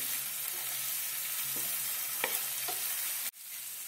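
A steady hiss of ginger and garlic frying in a pan, with occasional light stirring clinks, before the sizzle briefly drops and resumes.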